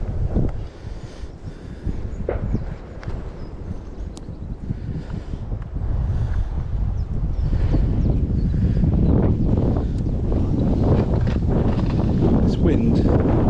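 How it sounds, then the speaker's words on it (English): Strong wind buffets the microphone on the bank of the River Thames during a winter club fishing match, a steady low roar that swells louder in the second half, with gusty rumbling throughout. "Wind."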